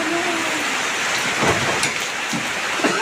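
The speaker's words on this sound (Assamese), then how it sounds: "বৰষুণ ভিজিলোঁ গাইছ" Steady rain hisses down with faint rolling thunder in the background, a constant close downpour with a few louder splashes and no voices.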